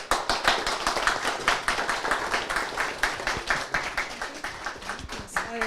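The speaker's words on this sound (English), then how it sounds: "So how about a round of applause?" Sustained audience clapping at a health systems conference panel, a dense steady patter of many hands thanking the speakers, moderately loud and continuous throughout.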